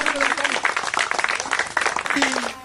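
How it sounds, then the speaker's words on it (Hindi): Children clapping together in quick, uneven bursts, fairly loud and close, with voices mixed in and a trailing tonal sound near the end. "बच्चों बजाओ ताली"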